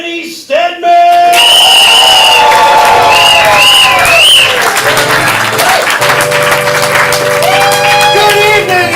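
A crowd at a ComedySportz improv comedy match in Portland bursts into loud applause, cheering and whoops that stay sustained and boisterous, with shouted voices and music-like tones running through the noise.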